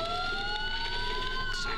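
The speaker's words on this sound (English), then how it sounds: "Sirens. The police." Police sirens in the Batman: Arkham Asylum game, several wailing tones rising together, loud and continuous over a brief stretch without speech.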